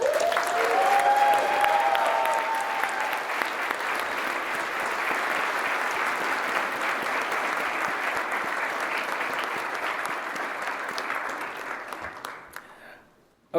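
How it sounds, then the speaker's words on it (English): An audience at the EcoCAR EV Challenge Year 2 awards ceremony gives the teams a long, dense round of applause that holds steady and then fades out near the end. "Let's give all of these teams one last round of applause."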